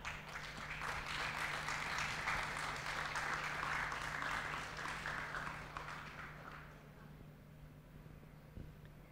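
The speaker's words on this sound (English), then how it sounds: "Round of applause and let's start with positive vibrations right one more time" Audience applause at a hospital's 25th anniversary event in Mumbai, a broad wash of clapping that swells then gradually fades, with a faint low hum underneath.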